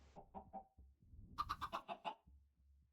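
A chicken in a modded single-player farming game with a barn: a few soft low clucks, then a quick burst of about six sharp, bright squawking clucks, close and clear against quiet.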